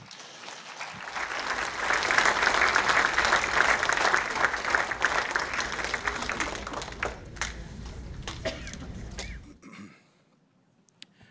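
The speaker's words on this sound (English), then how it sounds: "Let's give Theodore another round of applause." A conference audience at an Indigenous education talk gives Theodore a round of applause: steady, full clapping that swells, holds for several seconds, then fades quickly into near silence.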